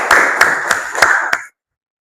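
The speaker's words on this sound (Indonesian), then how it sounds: "Kasih tepuk tangan dulu untuk kelompok ini." Students in a classroom clap for a group that has just presented, with about five evenly spaced, strong group claps over a steady patter of hands that stops abruptly at one and a half seconds, then silence.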